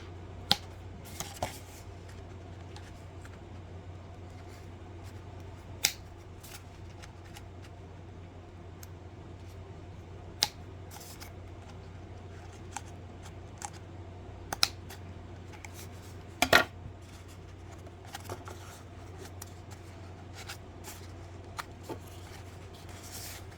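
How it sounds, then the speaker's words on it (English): Scissors cut material for a handmade bracelet display, making sparse, sharp snips and small clicks scattered over a low steady hum, close and quiet, with no voices. "I'm not wanting to cut too far because I can always cut more, but I can't uncut it."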